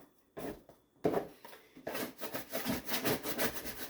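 A scraper rasps against the walls of a bowl to gather sourdough dough, a few short close scrapes followed by a rapid run of rhythmic rubbing strokes.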